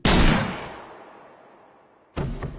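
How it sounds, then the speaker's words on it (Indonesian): Two loud, close gunshots ring out at night in a film scene, the first booming with a long decaying echo, the second following about two seconds later. "tiba-tiba seseorang menembak Mitra"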